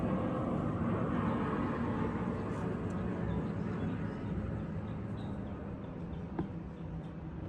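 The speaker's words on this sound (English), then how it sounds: "there's an airplane passing" An airplane passes overhead outdoors in a garden, a faint, steady broadband drone that slowly fades over several seconds, with no voices over it.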